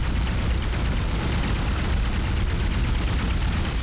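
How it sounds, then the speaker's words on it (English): A grenade explosion in the video game Dead Space, played on hard mode, heard as a loud, dense, sustained rumbling roar that fills the whole stretch without letting up, with no speech over it. "I'll just chuck grenades at it."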